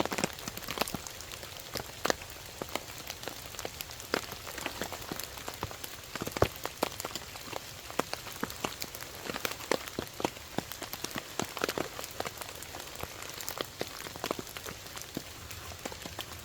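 Heavy rain drumming on an ultralight camping shelter during a thunderstorm, a dense steady patter with frequent sharp louder drops striking the fabric close by, no talk.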